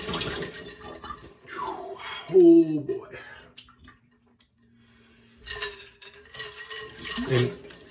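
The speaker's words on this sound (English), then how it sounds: "another rinse off of the ice water here" Ice water splashes in two bursts as a man rinses his face while shaving with mentholated soap, with short spoken exclamations between the rinses.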